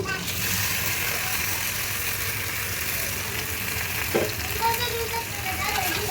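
Elephant apple pieces fry in oil for a pickle, giving a steady, close sizzle with a faint clink or two near the end.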